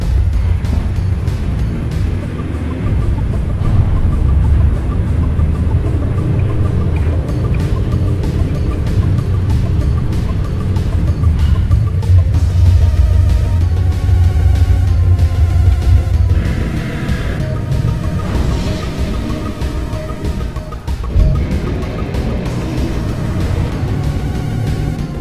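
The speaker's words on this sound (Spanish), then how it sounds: "nos toca ahora manejar a Cloud con el minijuego de la moto" Motorcycle engine in the Final Fantasy VII motorcycle minigame, a loud continuous roar with revving and shifting pitch throughout, mixed with game music and effects.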